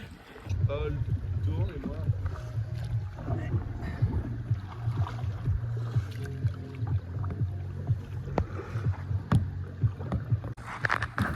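Kayak paddled on a river in the Tarn gorges, with soft paddle strokes and water sloshing under wind noise while people talk close to the microphone throughout.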